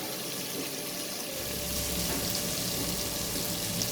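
Garlic and ginger frying in a pan for potato pulao, a steady close sizzle that swells slightly after the first second and stays continuous.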